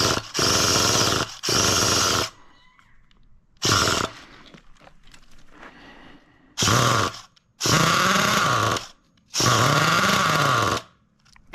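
A Losi LST XXL RC truck's small nitro engine with its idle gap set too small revs in loud, close bursts of harsh buzzing, cutting out between them into near silence and quiet clicks.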